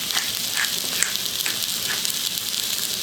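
Onion fries in a pan seasoned with salt and fresh cracked pepper, a steady, close crackling sizzle dotted with small sharp pops.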